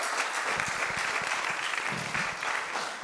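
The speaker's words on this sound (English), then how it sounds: "please give them a round of applause" An audience applauds as panelists leave the stage after a discussion on book censorship and bans, a dense, steady clapping that holds at full strength for a few seconds, with a few louder individual claps on top.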